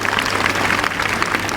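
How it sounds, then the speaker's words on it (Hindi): An audience at an official government event in Delhi claps steadily, a continuous wash of applause at moderate loudness. "जोरदार ताली बजा दो"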